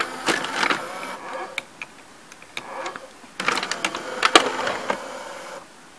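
An NEC N966U VCR mechanism keeps turning with its cassette carriage ejected, giving faint whirring and soft clicking and ticking in two bursts separated by a quieter stretch, with no voices.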